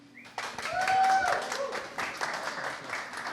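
Live audience applause for a jazz trio, the Disaster Trio, at a live jazz session; a dense crowd clapping rises quickly and stays steady and fairly close for a few seconds, with some voices mixed in.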